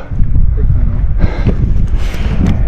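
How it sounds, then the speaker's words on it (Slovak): Cold wind buffets the microphone on a mountain at 1600 m in Morocco during a bikepacking trip, a loud continuous low rumble with gusts that swell partway through. "pofúkuje studený vietor"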